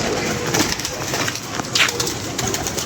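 Pigeons coo close by, soft throaty calls repeating over a busy background, with a brief flutter of activity among the birds.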